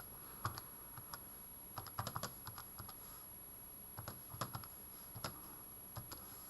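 Calculator buttons being pressed carefully: light, close taps in small irregular clusters, faint against a quiet background with no talk.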